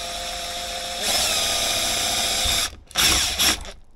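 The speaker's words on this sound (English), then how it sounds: "And what I'm using is, it looks like a 16th inch drill bit." A power drill with a 1/16 inch bit bores a pilot hole through a snowboard binding lever, the motor whining steadily and then rising in pitch, with a pause before two short final bursts.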